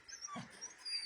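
A shy puppy at a dog shelter gives a brief, faint whimper and high thin whine, soft and close, lasting only about a second against quiet surroundings.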